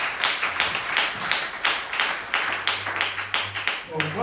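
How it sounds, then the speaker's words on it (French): A church congregation claps at a Sunday service of testimonies and songs, irregular sharp hand claps spread through the room, moderately loud, with a low hum and some voices mixed underneath. "Applaudissez encore pour le Seigneur"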